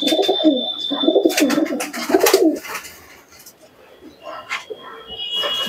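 Andhra tournament pigeons coo in low, throaty, rolling calls through the first half, followed by quieter rustling and a few sharp bursts, with a person talking over parts of it.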